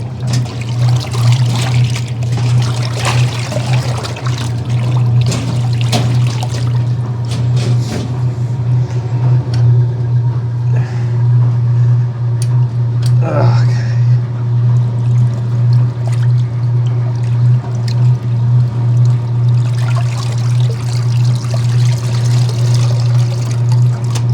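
Water sloshing as laundry soaks in a 65-year-old washing machine, a continuous pouring trickle with occasional splashes over a loud, steady motor hum, close and constant.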